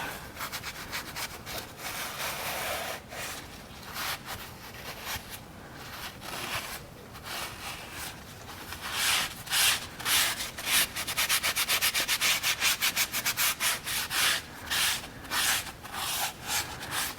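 Steady rubbing and scrubbing against a Porsche GT3 RS part as gunk is worked off during an exhaust install, continuous close strokes that quicken into a rapid rhythmic back-and-forth toward the end, with no talking.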